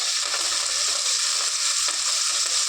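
Tomato pieces frying in oil with onion in a pan, a steady close sizzle with faint stirring scrapes running throughout, no voices.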